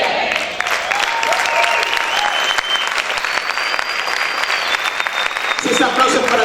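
A church congregation applauds during a sermon with sustained, dense clapping that stays loud and steady throughout, while faint voices rise and fall beneath it.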